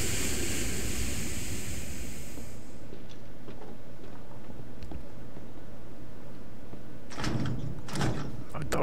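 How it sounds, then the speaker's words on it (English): A locked door is tried in the Resident Evil 7 video game: a few clunky rattling bursts near the end over steady background ambience. "my door's locked too"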